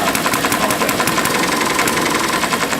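An old governor-controlled stationary farm engine, the kind used on water pumps and washing machines, runs under load with a steady, even chug and a constant mechanical hum, loud and close, with no voices.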